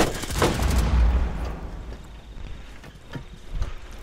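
A grenade detonates during a Rainbow Six Siege match: a loud, broad burst with rumbling low end that decays over a second, followed by scattered softer impacts and pops further off.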